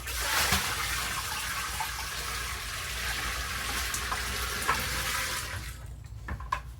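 Water from a bucket is poured into a moonshine corn mash, a sustained close gushing splash that runs for several seconds and then cuts off into quiet with a few small knocks.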